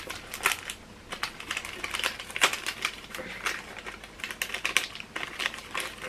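Someone tears open the plastic wrapping of an art box, making close, continuous crinkling and ripping in quick irregular bursts with no pause.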